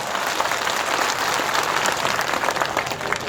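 Dense, steady applause from a large political rally crowd, loud and close, filling the short stretch without pause.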